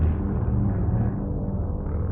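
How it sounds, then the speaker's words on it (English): Background music from the video game Doom 64 EX: a dark, droning low ambient score with a steady rumbling bed and murky mid tones, continuous and fairly loud throughout, with no voices. "I thought that was the sound of something lowering, but it's just the background music."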